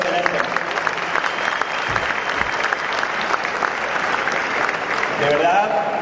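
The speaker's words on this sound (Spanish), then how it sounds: "os pido un aplauso para el equipo de Overclock" Loud, sustained audience applause for an extreme overclocking team at a tech event, a dense wash of clapping with some crowd noise and faint voices mixed in.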